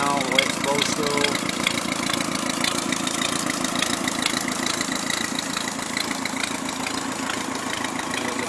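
An Atomic 4 inboard boat engine with a new exhaust manifold idles steadily, a close, even mechanical chug with a rhythmic knock and water movement, while someone talks briefly over it.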